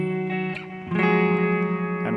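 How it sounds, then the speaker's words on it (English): Clean electric guitar signal through a Sonicake Matribox II multi-effects unit, a couple of sustained chords strummed and left ringing, close and steady with no talking. "what you hear is a completely clean signal"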